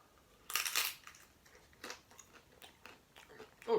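Close, crisp crunching as a vegan curry mashed potato taco is bitten, a sharp burst of crackle followed by quieter chewing crunches spread across a few seconds.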